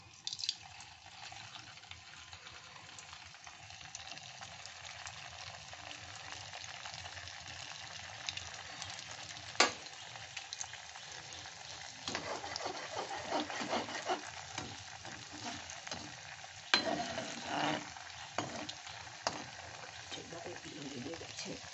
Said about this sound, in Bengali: আমি এইবার এই খেজুরগুলোকে ভেজে নেব, সবগুলো দিয়ে দিচ্ছি